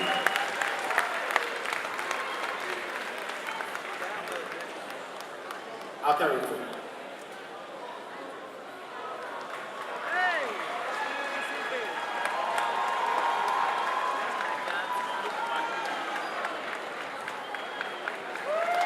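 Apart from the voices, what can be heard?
audience applause for young artist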